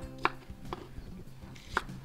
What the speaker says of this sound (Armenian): սոխը նորից կտրատում ենք միջին չափի